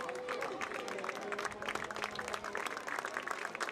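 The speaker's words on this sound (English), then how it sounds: "And applause given to DeRosa, who put in a nice 79+ minutes." A soccer stadium crowd applauds a substituted player leaving the pitch during Charleston Battery vs. Loudoun United, a steady wash of distant clapping and crowd noise with a faint voice over it.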